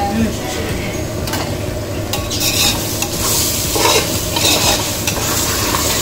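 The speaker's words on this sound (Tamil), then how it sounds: "இப்போது நம்ம எல்லாம் போட்டு வதக்கியாச்சு" Steady loud sizzling of masala stir-frying in a pan for chicken biryani, with a spatula scraping and stirring throughout, close up, with occasional metallic clinks.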